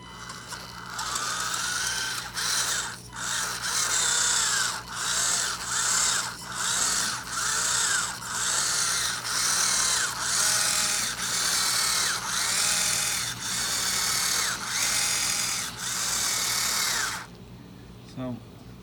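An SCX24 RC tractor puller runs in repeated bursts, a high electric whine surging and dropping about a dozen times in a steady rhythm, close and loud, before cutting off near the end.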